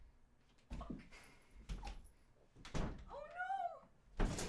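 Cats lounging on a cat tree, with one rising-and-falling meow amid soft thumps and rustles in a quiet indoor room, and a voice faintly in the background.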